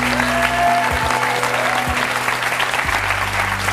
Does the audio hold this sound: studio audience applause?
yes